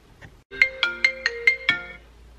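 A telephone rings six times in a steady electronic pattern, loud and close, with no voices over it, as the call for a phone interview comes in.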